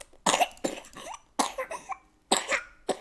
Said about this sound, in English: Oh, that's a nasty cough.